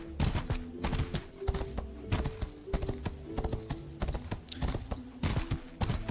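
Horse hooves clip-clopping in the medieval combat game Mordhau, a steady rhythm of sharp hoof strikes on hard ground, fairly close and loud, with no talking.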